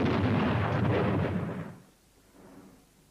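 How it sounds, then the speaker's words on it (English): A loud anti-personnel mine explosion from a WW2 war film set at El Alamein: a heavy, booming blast that holds for over a second, then fades into a low, rumbling tail. "That explosion was one of our mines. Someone must have stepped on it."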